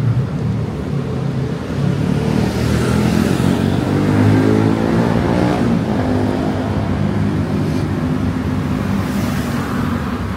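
A loud, steady engine rumble drones on without pause, a motorcycle with a modified loud exhaust revving close by with a rough, throaty roar and no talking.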